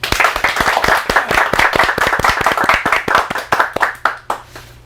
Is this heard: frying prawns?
no